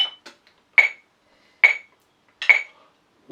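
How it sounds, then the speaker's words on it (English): A metronome clicks at 70 beats per minute in 4/4, sharp woody ticks spaced evenly about 0.85 seconds apart with faint softer ticks early on, crisp and alone against silence. "4/4 at 70 beats per minute on this click will sound like this."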